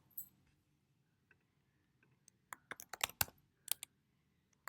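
Quiet typing on a computer keyboard while entering a formula in Excel: a scattered run of light, close clicks, sparse at first and then quicker in a short burst, with no talking.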